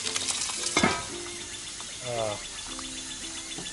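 Sliced raw potatoes browning in a frying pan at a driveway campsite give off a continuous crackling sizzle, with a voice talking over it and insects chirping faintly in the background.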